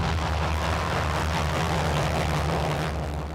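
AT-6 Harvard SNJ training aircraft flying past in a mass flyby, a loud continuous droning engine roar with a strong low hum, steady throughout and heard alone.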